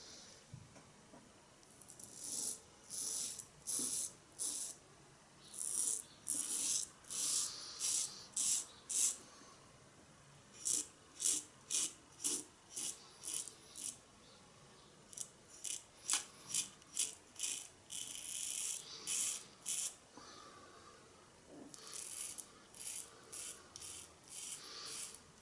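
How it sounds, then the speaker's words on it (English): A razor scrapes across lathered skin in short, rhythmic strokes, with a vegan shaving formula as the lather. Clusters of close, raspy swipes come in bursts separated by brief pauses, quiet and without talking. "And let's get to shaving."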